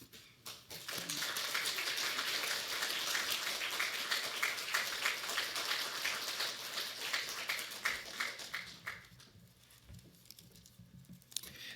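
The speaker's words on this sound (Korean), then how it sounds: "우리 선교사님 올라오실 때 박수로 환영하도록 하겠습니다." Church congregation applauding to welcome a missionary to the front, a sustained, dense patter of clapping that swells, holds, then thins out toward the end.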